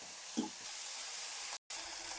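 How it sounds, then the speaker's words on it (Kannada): Tomatoes, freshly added to browned onions for a kaju masala curry, frying in a pan with a steady low sizzle throughout and one brief soft knock near the start. "ಟೊಮೆಟೊ ಸಾಫ್ಟ್ ಆಗೋ ತನಕ ಫ್ರೈ ಮಾಡ್ಕೋಬೇಕು"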